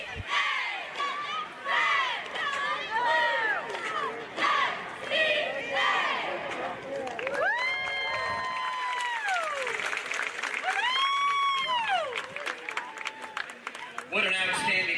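A crowd cheers and applauds a performance by young ladies at an FCA Victory Bowl, with loud whoops, rising shouts and clapping filling the space, and voices talking among the noise.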